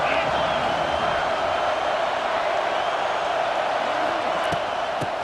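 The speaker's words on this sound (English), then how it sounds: "This crowd ready to make its presence known." A stadium crowd in EA Sports College Football 26 keeps up a steady, broad roar under commentator speech, with a few brief sharp knocks near the end.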